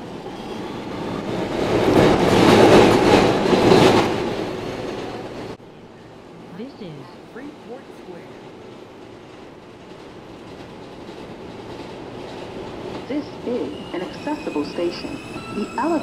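A J Express subway train pulls away, a loud roaring rush for the first few seconds that drops abruptly to a quieter rumble with clicks, squeals and faint chimes as it rolls along.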